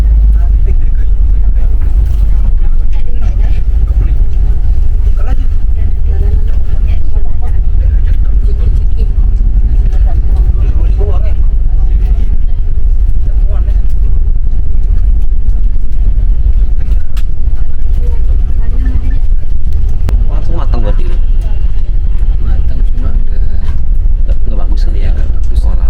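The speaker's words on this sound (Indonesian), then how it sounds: "bus melanjutkan perjalanannya kembali masuk melalui gerbang tol Kayu Agung" An intercity Adhi Prima bus drives along the Trans Sumatra toll road near Kayu Agung, with a steady loud engine and road rumble continuing throughout, heard from inside the cabin.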